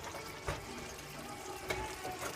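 Liquid ingredients pour into a cooking pot for black bean soup, a faint, steady watery trickle broken by two soft clunks against the pot.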